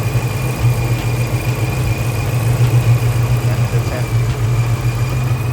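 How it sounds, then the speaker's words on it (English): A car engine idles with its cooling fans spinning hard, a steady low hum and whirring drone held close and constant throughout, with no clear talk over it. "now the fans are spinning. Spinning like crazy"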